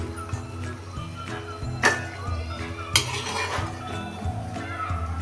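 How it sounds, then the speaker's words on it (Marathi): Wheat-flour and jaggery gulgule being lifted out of a frying pan, with soft clinks and scrapes of a metal utensil against the pan, two sharper knocks, and low kitchen noise underneath. "हे आता आपण काढून घेऊया असे करून आता हे सगळे गुलगुले मी तळून घेते"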